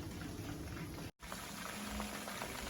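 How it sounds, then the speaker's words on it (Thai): Chicken wings deep-fry in a pan of hot oil, a dense, steady sizzle and bubbling heard close up, with a brief dropout partway through. "ทอดกระทะสุดท้ายแล้วจ้ะ"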